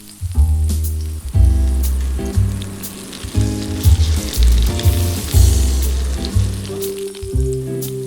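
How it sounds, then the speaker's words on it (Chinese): Salmon fries in olive oil with a knob of butter in a pan over medium-low heat, giving a steady, close sizzle with background music. "然后橄榄油热锅，用中小火煎三文鱼"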